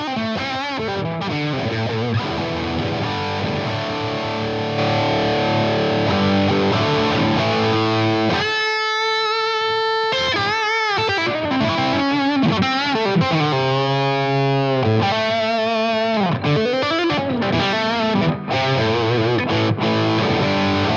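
Electric guitar played through a Blackstar HT Venue Mk 2 valve amp on the overdrive channel in classic voicing with lead boost engaged, giving dense distorted riffs and sustained lead notes, loud and continuous without talk.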